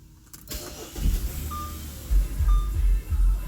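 A 2005-2008 Audi A6 starts with a brief crank and click, then its engine catches into a low, throbbing idle with a few surges. Faint electronic tones sound inside the cabin.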